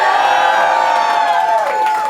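A crowd at a Ron Paul political party cheers and whoops loudly, a sustained roar of shouting voices close by that eases slightly toward the end.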